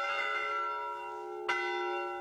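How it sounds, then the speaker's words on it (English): Two large, heavy cast bronze church bells of different sizes, rung gently in a bell tower, give a sustained, shimmering tone that fades slowly, then a fresh strike halfway through. "These are two big bronze cast bells, and you can see they're different sizes to give the different tones"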